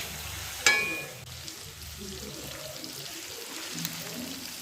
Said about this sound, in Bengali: ওটাতে আমি মাংসটাকেও ভেজে নেব। মাংসটা একটু ড্রাই করে ভাজবো।